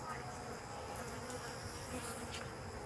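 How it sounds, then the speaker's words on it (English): Bees buzz around a top-bar beehive as a faint, steady insect hum with a few louder passes of individual bees flying near, continuous and without talk. "there's a pretty steady flow of bees in and out"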